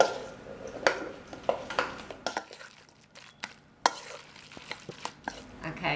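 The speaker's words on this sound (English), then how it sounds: "Mix this up really well, as you can see." Potato pancake batter with two heaping tablespoons of sofrito being stirred by hand in a bowl, giving irregular close scraping clicks and soft wet knocks with brief quiet gaps, no talking.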